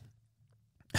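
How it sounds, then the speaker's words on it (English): A single sharp sneeze bursts out loudly and close at the very end, after a stretch of near silence with a faint low hum. "hold on, I think I'm going to sneeze."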